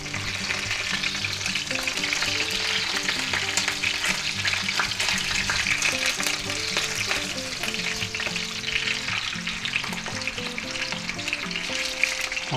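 Thick boneless pork chops searing in a cast iron skillet give a loud, continuous sizzle and crackle throughout, with faint background music underneath and no talking.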